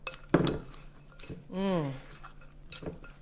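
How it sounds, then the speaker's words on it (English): A spoon stirring almond milk drink in a cup, giving a few light clinks of metal against the cup around a woman's brief speech, quiet and close. "We're going to stir this up."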